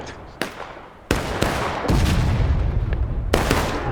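Artillery fire in the Civil War video game War of Rights, a string of sharp, loud booming blasts with rolling echoes, several hitting in quick succession over a noisy battlefield backdrop.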